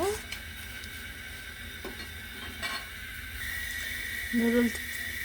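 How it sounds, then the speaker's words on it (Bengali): Noodles boil in a pot of water on a home stove, giving a steady low hiss and bubbling that swells briefly near the end, with a faint voice now and then. "নুডলসটা এখন সিদ্ধ করে নিব।"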